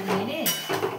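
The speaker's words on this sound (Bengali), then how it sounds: "ভালো করে নেড়ে" A spoon scrapes and clanks around a metal cooking pot as salt, turmeric and fish masala spices are stirred in, giving about a second of close, rough metallic scraping with a bright clink midway.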